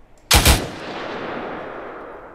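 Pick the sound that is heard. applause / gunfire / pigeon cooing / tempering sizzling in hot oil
gunfire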